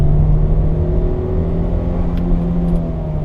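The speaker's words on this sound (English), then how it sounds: "as you can hear, the gear changes are pretty often, but the engine is doing its job" MG HS mid-size SUV engine revving while climbing uphill, holding a steady loud drone with shifts in pitch as gears change, close and continuous, with no talk.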